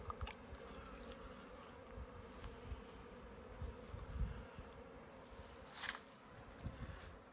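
Honey bees buzz at a hive in winter with a steady, soft, continuous hum, fairly faint and close. A few brief louder passes of individual bees come through, and no one speaks.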